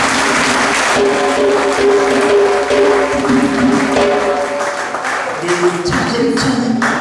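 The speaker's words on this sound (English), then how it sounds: "Give them a round of applause." Sustained audience applause fills a symposium hall on racial equality in Guyana, steady and dense throughout, with a voice speaking faintly beneath the clapping.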